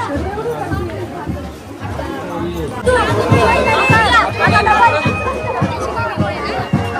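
Dense crowd chatter and babble at the busy Chirner Mahaganpati Maghi Ganpati festival temple, many overlapping voices near and far with footsteps and bustle, growing louder partway through.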